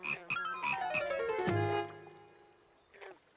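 A frog croaks in a short run of calls, fairly close and clear with a little ambience underneath.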